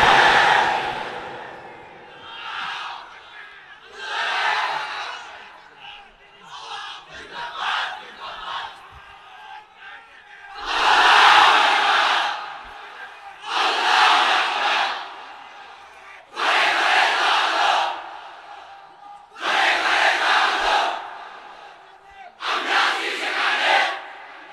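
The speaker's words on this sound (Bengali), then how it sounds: "এই বাংলার জমিনে এই আল্লাহু আকবারের স্লোগান চলতেই থাকবে" A large crowd at an outdoor religious gathering chants the Allahu Akbar slogan in loud, rhythmic bursts. Roughly seven swelling waves of massed voices are separated by short pauses, with a lone leader's voice calling between them.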